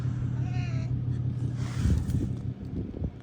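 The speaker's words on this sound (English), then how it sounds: "What are you doing, cat?" A cat meows briefly in a home garage during a 2014 Toyota Highlander transmission fluid change, a short rising call near the start over a steady low engine-like hum, followed by scuffing noises.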